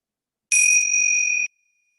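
A single meditation bell strikes once, clear and bright with two steady ringing tones, sustaining for about a second before cutting off in an otherwise silent room.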